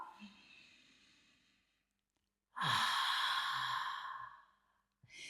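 Loud, close breaths from a hatha yoga breathing exercise: a soft exhale, a pause, then a long forceful sighing breath and the start of another.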